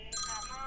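Telephone ringing with a bright, warbling electronic ring tone that starts abruptly and holds for under a second, with a voice underneath.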